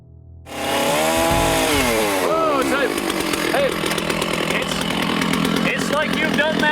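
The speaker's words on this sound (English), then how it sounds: "using a chainsaw is such a guy thing, but it's awfully dangerous" A chainsaw starts up and runs loud and close, cutting firewood during a large tree removal, its engine pitch rising and dipping as the chain bites the wood, with people talking underneath.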